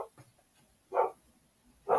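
A dog barks at the mailman indoors, two loud, close barks about a second apart, following a softer one at the start.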